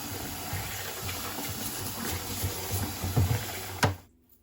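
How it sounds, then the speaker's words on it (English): A nylon bristle kitchen brush scrubs oil and cooked-on bits from a cast iron pan in a steady, close rasping wash with small scraping bursts, ending in a sharp knock before going quiet. "try to remove most of the oil and cooked on particles just with a nylon bristle kitchen brush"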